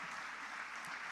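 A dense church congregation claps continuously, a brief wash of applause with no voices standing out.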